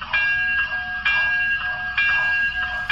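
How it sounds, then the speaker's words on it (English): Bell of a Broadway Limited model train locomotive ringing in a steady repeated rhythm, four clear metallic strikes with ringing tones, close and loud with no talking. "Add the bell."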